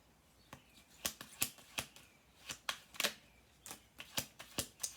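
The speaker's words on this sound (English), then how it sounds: "We're gonna do 2 more shuffles." Tarot cards being shuffled by hand, a quick series of crisp riffling snaps and flutters in irregular bursts, close and fairly quiet with no talking.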